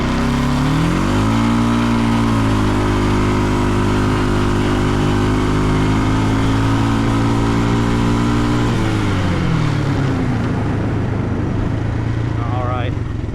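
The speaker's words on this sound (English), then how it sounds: "see which one can get up to speed the quickest in drag race" A Kawasaki Brute Force 300 ATV accelerates hard in a drag race, its mid-pitched engine climbing steadily in revs for several seconds and then dropping back, loud and close.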